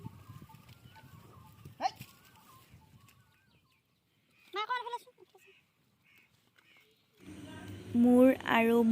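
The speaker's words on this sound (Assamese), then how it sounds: "কুলিৰ মাত শুনি ইমান ধুনীয়া লাগে, মানে বহুত ভাল লাগে।" Asian koel calls in the open during the Goru Bihu and Rongali Bihu festival, a clear rising whistled phrase near the middle and a louder repeated call at the end, with a voice talking early on and light breeze.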